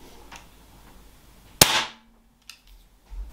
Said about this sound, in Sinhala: ඊට පස්සේ බලමු මේකෙන් වෙඩි තිබ්බහම කොහොමද සද්ද කියලා